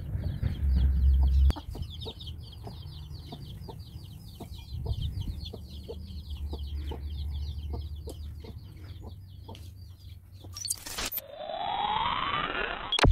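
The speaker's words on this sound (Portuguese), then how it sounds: "Os galos estão brigando, gente." Chickens and a rooster fight on a farmyard, with loud flapping and scuffling up close, repeated clucking and squawks, and a sharp clattering bang near the end.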